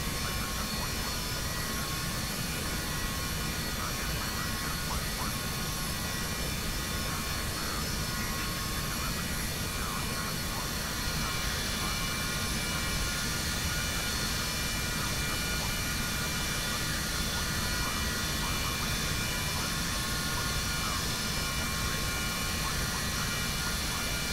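Continuous aircraft engine roar from an airliner taxiing at around 35% power, steady and loud throughout, with a broad jet hum filling the cabin and no talk.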